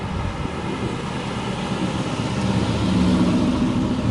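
A supercar exhaust gurgles and burbles at low speed, around walking-to-jogging pace, a dense rumbling engine note close by that swells slightly toward the end with no voices.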